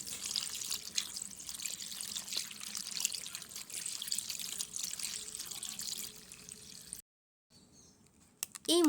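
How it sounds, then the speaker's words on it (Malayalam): Black grapes washed in salted water, with steady running and splashing water lasting several seconds, then a short silence and a brief clatter at the end; no talking. "നന്നായി കഴുകി വൃത്തിയാക്കണം."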